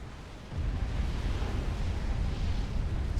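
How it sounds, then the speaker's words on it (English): An ACU unit explodes in a real-time strategy game, a deep rolling rumble that swells in after a half second and holds steady as a broad, continuous roar. "it's just as ACU is exploding on the other side, nothing big"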